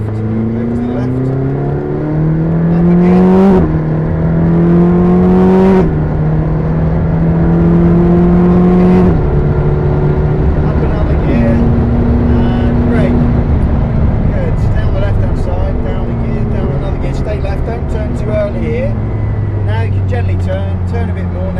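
A McLaren 620R engine roars loudly on the Silverstone circuit, its pitch climbing through the gears in rising sweeps with drops at each shift, while someone talks over it.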